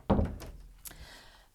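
An indoor door being closed: one loud, close thunk followed by a lighter click as the latch catches, then quiet.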